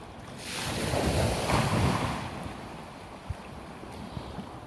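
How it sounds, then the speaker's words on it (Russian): Winter sea waves at Torrevieja, Spain surge in a broad, rushing wash that swells and slowly recedes, with wind buffeting the microphone. "Просто морюшка."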